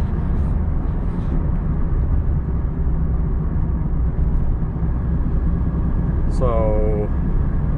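A 1984 Pontiac Fiero drives along in November, its engine and road noise holding a steady, loud drone throughout. A brief higher whine rises near the end.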